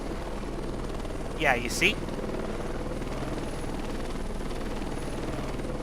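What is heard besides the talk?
helicopter in Heliborne video game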